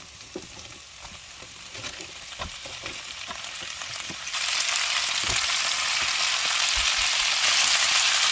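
Carrot, cabbage and onion stir-fry in a few spoonfuls of oil, a steady close sizzle that jumps louder and brighter partway through, with occasional spatula clicks against the pan and no talking.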